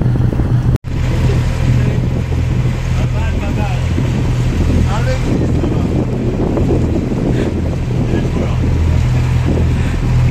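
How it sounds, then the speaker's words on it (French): A sailboat's engine drones steadily throughout, mixed with rushing wind and water noise, loud and close, with a brief dropout near the start. "Donc on se met au moteur et on arrive tranquille."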